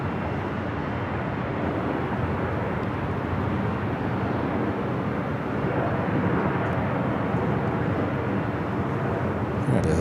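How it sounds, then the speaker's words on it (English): Condor Airbus A330neo airliner flying on approach to LAX, a steady, broad engine roar that holds evenly loud throughout, fairly distant, with no voices. "Let's take a look at the Condor A330 Neo."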